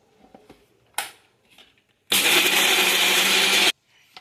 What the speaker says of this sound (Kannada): ಮಿಕ್ಸಿಗೆ ಹಾಕ್ಕೊಂಡು ಪುಡಿ ಮಾಡ್ಕೊಳ್ಳೋಣ.